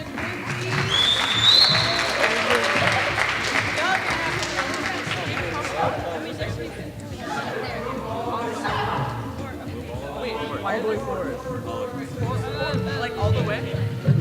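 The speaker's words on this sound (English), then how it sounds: "Can we give them another round of applause as a group, please?" A school story slam audience gives the group of student performers another round of applause, loud clapping and cheering that gradually gives way to chatter and talk from the crowd.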